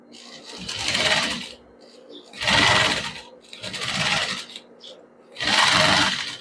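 A sewing machine stitching a Filipiniana sleeve runs in four close, loud bursts of rapid whirring, each lasting about a second, separated by short quiet gaps.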